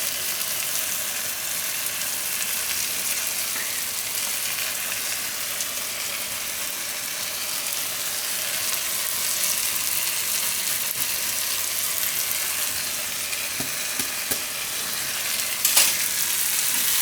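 Eggplant and grated ginger fry in a pan with a steady, close hiss of sizzling oil that continues throughout, broken only by a faint clink near the end.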